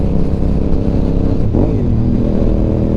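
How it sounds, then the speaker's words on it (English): A 2004 Honda RC51 Nicky Hayden Edition motorcycle pulls hard and loud at close range, its engine drone steady before the pitch dips and sweeps upward as the throttle opens. "Open the bike up just a little bit."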